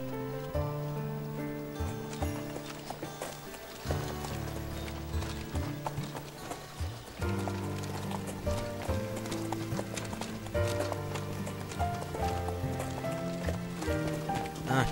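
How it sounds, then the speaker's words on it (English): Horse hooves clip-clop in a rapid gallop in the video game Dynasty Warriors 4, playing steadily under loud in-game music with no talking. "I'll admit, Zhang Fei's got a very nice horse"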